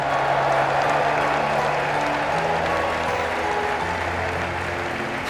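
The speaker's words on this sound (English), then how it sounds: "let us shower these victors with thunderous applause" Steady crowd applause in a tournament arena in the video game Trails in the Sky, a continuous wash of clapping mixed with sustained musical tones and no pauses.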